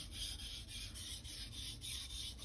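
A 240mm Gyuto knife of Blue Super steel is stroked along Naniwa whetstones, giving a steady, close rasping scrape in repeated back-and-forth passes with no talking.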